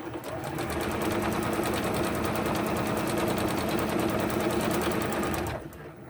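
A sewing machine stitches a fabric face mask across its elastic loops, running steadily and loudly at close range for about five seconds before stopping abruptly.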